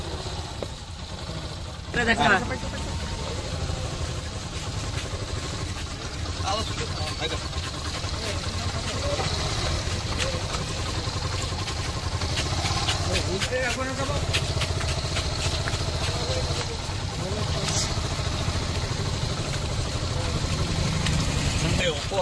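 A motorcycle engine runs steadily at a low idle throughout, with people talking over it and occasional brief knocks.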